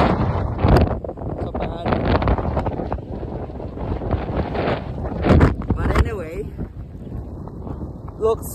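Strong wind buffets the microphone in a continuous low roar, with a person speaking briefly over the gusts.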